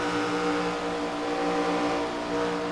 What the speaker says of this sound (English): you hear just how much on and off the throttle